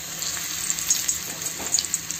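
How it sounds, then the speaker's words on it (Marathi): Spinach pakoras dropped into hot oil, a bright continuous frying hiss with small popping crackles throughout this short moment. "पालक पकोडे टाकत आहे तेलात।"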